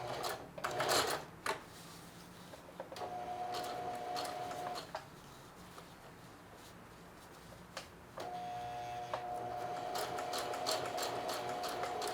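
A sewing machine stitching a blue jeans back pocket runs in two steady whirring bursts, with light clicks and handling knocks between them, quiet and close, no voices.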